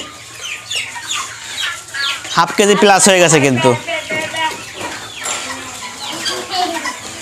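Light Brahma chickens cluck and chatter close by on a farm while someone talks over them.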